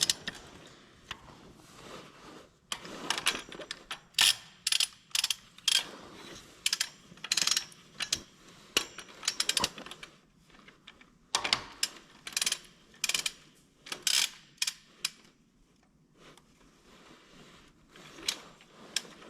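Ratchet clicking in rapid repeated bursts as head bolts are spun down on a John Deere 4840 tractor engine, close and crisp with pauses between runs and no speech.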